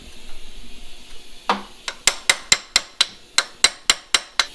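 Steady hammer blows on a chisel driven against a stuck, partly rusted bolt on an old car, about a dozen sharp metallic strikes in an even rhythm after a brief quiet start, close and loud, with no talking.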